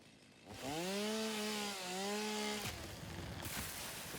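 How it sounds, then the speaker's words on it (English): Tree felling in the video game Satisfactory: a loud, sustained chainsaw-like whine with shifting pitch that rises over the first half-second, holds for about two seconds, then cuts into a rough crashing rush. "It's the first time I've seen tree felling since the update."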